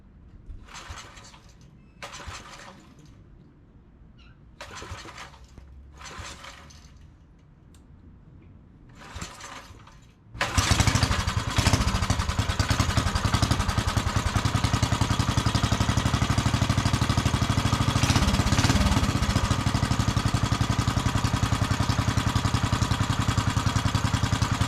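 A Briggs & Stratton 5 hp model 130202 small engine is cranked with a few short pulls, then catches and runs steadily at a loud, even idle for the rest of the clip, close to the listener.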